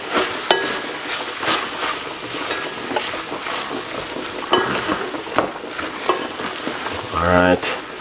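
A vegan mixture with seasoning powder stirred in a hot pan, a constant sizzle under repeated scraping and clacking of the utensil against the pan, close and fairly loud, ending in a brief buzzy rattle, no speech.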